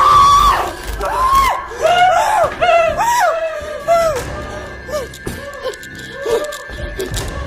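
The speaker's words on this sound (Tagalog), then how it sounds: "mas malakas pa sumigaw ang mga lalaking ito kaysa sa babae" Several men and women shriek and yelp in fright, overlapping high-pitched screams and gasps rising in bursts, with scattered nervous laughter between the cries.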